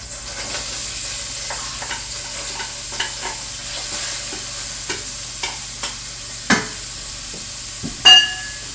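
Soft, steady frying sizzle from onions added to melted fat in a pan, with occasional utensil scrapes and clinks, a louder clatter near the end.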